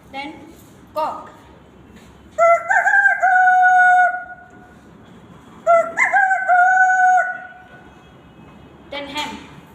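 At a school mimicry performance, a voices a rooster crowing, two long, loud, drawn-out cock-a-doodle-doo calls close to the listener, with brief vocal sounds before and after.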